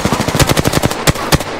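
Rapid automatic gunfire in the video game Apex Legends rattles close and loud in a fast burst, followed by two sharper separate shots.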